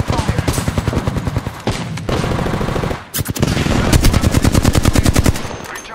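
Rapid automatic gunfire from a shooting video game, loud and close, firing in fast rhythmic bursts with brief pauses, the last stretch a long unbroken stream of shots.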